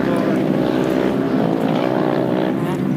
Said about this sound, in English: Man, I love the sound of Granlund's car.